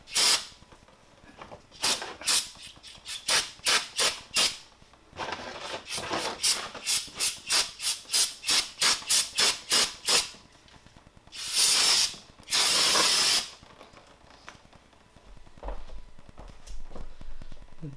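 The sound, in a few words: spraying cleaner on car brakes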